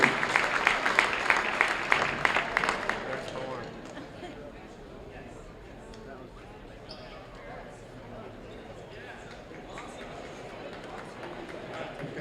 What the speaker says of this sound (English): Let's have a big round of applause for the band seniors.